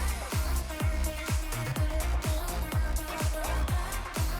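Snare drum accents in a fast dance song play over a full music mix, with sharp, evenly spaced hits landing about twice per second and ringing briefly before the next strike.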